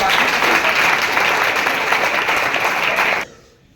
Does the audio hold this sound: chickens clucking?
no